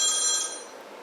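A telephone bell rings once, a bright metallic ring that fades away over about a second with no talk.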